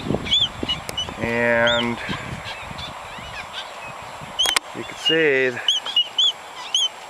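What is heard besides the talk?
seabirds and chicks calling on Midway Island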